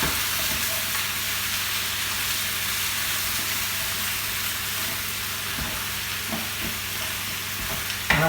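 Pepper and tomato soup seasoned with Cajun spices sizzles loudly and steadily in a pan while being stirred, with a constant hiss and occasional light scrapes and knocks, no voices present.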